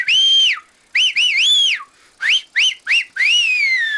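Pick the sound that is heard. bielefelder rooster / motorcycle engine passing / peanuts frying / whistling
whistling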